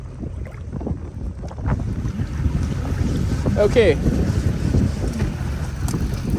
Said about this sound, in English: It is windy as can be